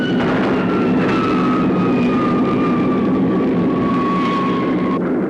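An aircraft landing on a carrier's flight deck gives a loud, continuous engine roar with a steady high whine that slowly drops in pitch before cutting off near the end.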